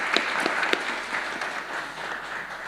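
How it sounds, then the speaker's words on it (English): Conference audience in a hotel ballroom applauding at a side event, a steady wash of clapping at moderate distance with a few sharper individual claps standing out, no talk over it. "Please give Nawal a big round of applause"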